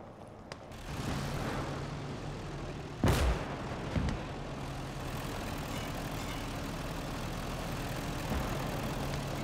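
A heavy boom of artillery fire in the video game Gates of Hell: Ostfront thuds once, followed by a smaller second blast, over a steady rumbling engine drone.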